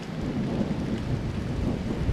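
Low thunder rumbles from a storm passing over open country, with rain pattering steadily throughout, continuous and fairly distant, with no voices.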